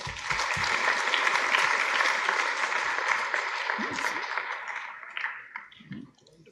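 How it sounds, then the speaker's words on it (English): Warm applause from a convention audience welcoming a guest of honor, a dense sustained clapping that fades out near the end, with a few faint voices underneath. "Please welcome his presence with warm applause."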